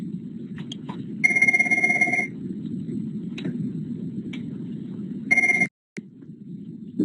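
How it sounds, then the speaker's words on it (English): A telephone rings in two bursts of a bright electronic trill, the first longer and the second shorter, over a steady low background hum. "I got a phone call, so I need to take that."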